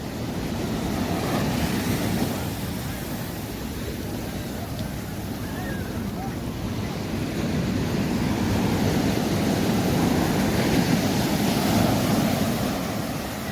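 Sea waves breaking on Copacabana beach in Rio de Janeiro on a sunny day, a steady washing surf roar with broad swells of louder wash, close by and continuous, with some wind noise on the microphone.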